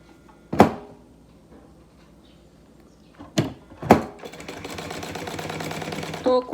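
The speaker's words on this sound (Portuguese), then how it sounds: "Tô costurando com meio pé de máquina, ó, deixando tudo aqui bem alinhadinho." A sewing machine stitches a synthetic leather binder at half speed, with a sharp clack near the start, two more bursts in the middle, then a steady buzzing run of stitching toward the end.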